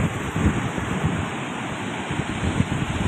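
Floodwater surges past Ramling bridge in a broad, constant rushing roar, mixed with gusty wind buffeting the microphone, with no voices.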